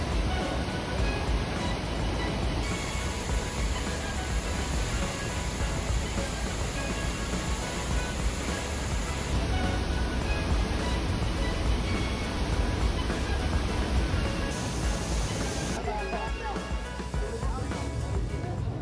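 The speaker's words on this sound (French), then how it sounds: "Et le clou du spectacle est une énorme cascade dénommée le Chaudron du Diable." A huge waterfall, the Devil's Cauldron near Baños in Ecuador, roars as a steady, dense wash of rushing water that fills the whole stretch without pause.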